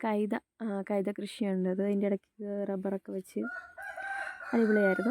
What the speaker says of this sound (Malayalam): കോഴി ഭയങ്കര ശബ്ദം